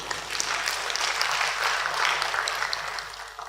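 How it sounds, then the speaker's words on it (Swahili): A seminar audience claps together on cue, a sustained wash of many hands applauding at moderate volume for a few seconds without a break. "hebu jipigie makofi kidogo"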